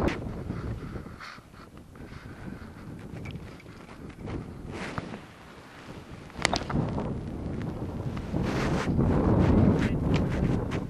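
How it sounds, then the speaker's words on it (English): Wind gusts rumble against the microphone, rising and falling, growing louder toward the end, with no clear speech, on a cold day of crappie fishing. "Cold weather, windy day."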